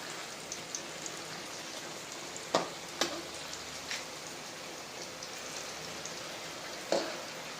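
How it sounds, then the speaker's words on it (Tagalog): Bananas fry in hot oil for banana cue, a steady close sizzle with occasional louder pops and crackles throughout. "Ganyan po ang luto ng banana"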